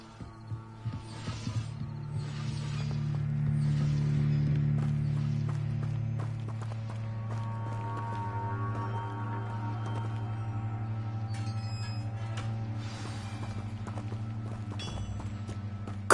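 Horse-drawn carts roll along in Hogwarts Legacy, with steady hoof clip-clop and creaking, rattling wheels forming a continuous moderate rumble throughout, joined by brief chimes and sparkling effects toward the end.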